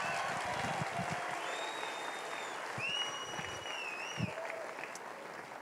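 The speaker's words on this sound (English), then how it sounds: "give them a huge round of applause for all of our speakers" Steady applause from a graduation crowd for speakers, clapping continuously at moderate distance, with a few high whistles rising over it.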